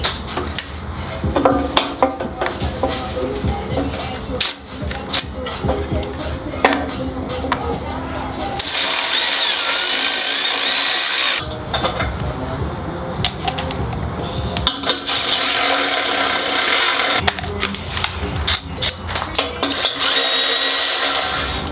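A power tool removes a factory bolt from the frame of a Jeep Gladiator during a front bumper install. Loud whirring and rattling comes in sustained bursts with pauses between them, and someone talks throughout.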